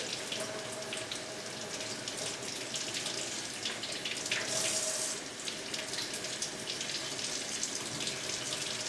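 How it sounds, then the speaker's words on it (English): Steady running water from a tap streams continuously into a homebrewing siphon hose, a close, even rush with no voices. "we're going to take a little bit of water here and fill this hose with some water"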